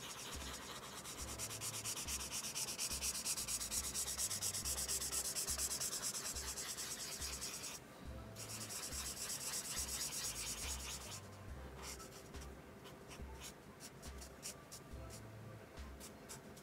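An alcohol marker's chisel tip scrubs across a paper coloring page in steady back-and-forth strokes, a soft close rubbing texture with a brief pause partway through.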